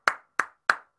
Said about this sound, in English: So those are the basic claps.